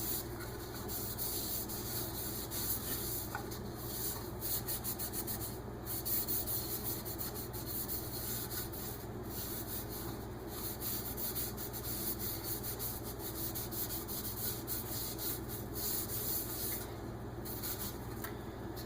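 Danish oil finish is rubbed into a piece of turned wood, giving soft, continuous cloth-on-wood friction with repeated quiet swishing strokes, steady and close with no voices.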